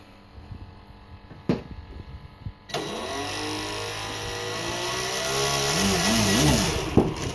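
RC model Albatross plane motor at quarter throttle: a few clicks and taps, then the motor starts and runs with a steady, whirring drone that swells slightly in loudness.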